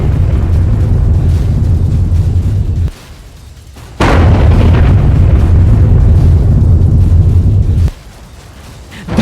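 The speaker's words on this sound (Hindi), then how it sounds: "अब इसी धमाके को इस बाजार के पीछे वाली गली में लगे सीसीटीवी कैमरे की नजर से देखिए।" An explosion in a market back alley in Azerbaijan, picked up by a CCTV camera: loud, harsh roaring noise cuts out briefly, then resumes with a sharp burst before dropping away near the end.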